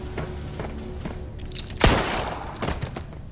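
A single loud gunshot rings out in the Aliens: Colonial Marines video game, a sharp close blast with a brief ringing tail, following quieter thuds and footsteps-like taps, without any speech.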